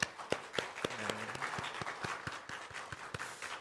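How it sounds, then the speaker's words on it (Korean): Scattered hand claps ring out in a Korean church Sunday service in Tashkent as the congregation welcomes a visiting deacon; the claps are sparse, quiet and somewhat distant, with faint tonal sounds in the room behind them. "우리 큰 박수로 환영하도록 하겠습니다"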